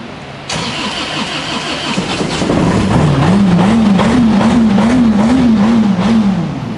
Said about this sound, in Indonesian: Kalian bisa dengar suaranya, suara supercharge-nya. Kedengeran banget.